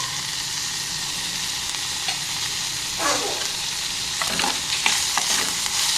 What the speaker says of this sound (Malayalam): ഇളക്കി കൊടുത്തിട്ട് നമുക്ക് മഞ്ഞൾപ്പൊടിയും കുരുമുളക് പൊടിയും കൂടി ചേർത്ത് ഇളക്കാം